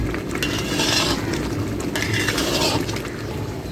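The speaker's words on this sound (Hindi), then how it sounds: "तो अभी अच्छी तरह से घी में इसकी हम बुनाई कर लेंगे" Sohan halwa mixture being stirred in ghee in a pot: continuous scraping and sizzling with clinks of a spoon against metal, close and steady.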